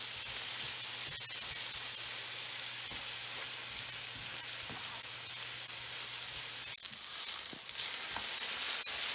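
Apples cooking down in a pan until gooey and caramelized, for phyllo dough cups: a steady, close sizzle and frying hiss throughout, with a few small clicks and a brief swell of louder hiss at the end.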